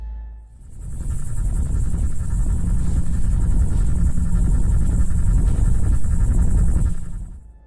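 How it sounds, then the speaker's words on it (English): Loud, steady television static hisses and rumbles for several seconds in a house at night, filling the room with a pulsing broadband roar that swells in after a brief dip and cuts off at the end. "Mark heads into the living room where the noise grows louder and we see the TV is definitely acting up."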